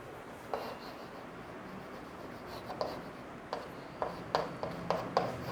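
Marker or chalk strokes on a board during a physics lecture on elasticity, scratchy taps and short strokes at an irregular pace over a steady room hiss, with no talking.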